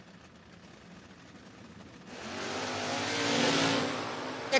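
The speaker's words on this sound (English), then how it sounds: "Kick off the race, Eric Henry, 10 red on the get-go." Door Wars drag race cars launching down the strip, the engine roar swelling loud from about halfway, peaking and holding near, with a sharp bump at the end and no talk over it.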